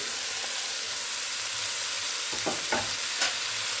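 Chopped greens and bottle gourd go into a hot frying pan, giving a steady loud sizzle and hiss with a few stirring scrapes near the end.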